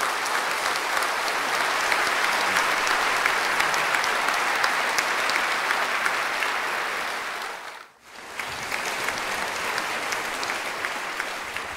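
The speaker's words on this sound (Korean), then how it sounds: "큰 박수와 함께 오늘의 행사를 시작하도록 하겠습니다" A conference hall audience at the founding ceremony of an academic society gives sustained, even applause, a dense wash of clapping that dips briefly for a moment before resuming at full strength.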